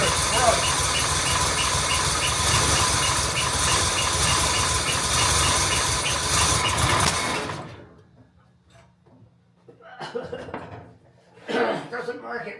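A Jaguar MKII engine runs with a loud, rough, rapid clattering idle, then cuts out abruptly to near silence before sputtering back in short, uneven bursts as it is given gas.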